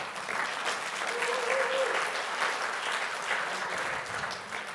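Warm audience applause at an art event talk, steady clapping from a modest crowd over several seconds, fairly soft and even, with a brief faint tone near the middle.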